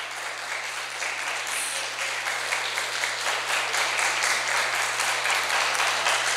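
A church congregation applauds in steady, continuous clapping that holds at even strength for over six seconds, with a low hum running underneath.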